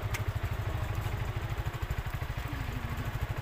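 A motorcycle engine idling to warm up before a ride, a close, steady low thudding pulse with faint mechanical clatter and no voices.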